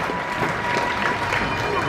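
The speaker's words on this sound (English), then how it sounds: "a nice round of applause for that TV show" An outdoor crowd at the Ohio Scottish Games applauds, a steady wash of clapping from many hands at moderate loudness, with voices faintly mixed in.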